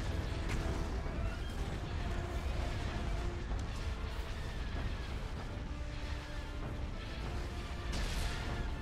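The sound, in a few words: ion cannon firing in Star Wars Empire at War video game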